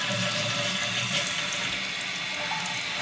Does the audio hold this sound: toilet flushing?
yes